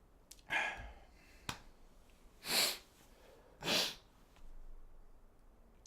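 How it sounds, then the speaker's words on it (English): Several short nasal sniffs from someone with a lingering cold, two of them louder and breathier, spaced a second or so apart in a quiet room. "Sorry about the sniffles."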